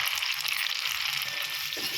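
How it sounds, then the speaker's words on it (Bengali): Boiled chana dal, cooked earlier with salt and turmeric, hitting hot frying spices with asafoetida, giving a steady bright sizzle and crackle that persists evenly throughout. "মশলাগুলো সব ভালো করে ভাজা হয়ে গেলে আগের থেকে নুন হলুদ দিয়ে সেদ্ধ করা ছোলার ডাল দিয়ে দিতে হবে"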